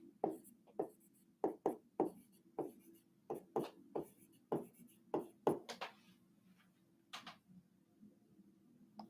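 Chalk or marker taps and strokes across a board as an equation is written, a steady run of short, distinct, close impacts with a faint background hum.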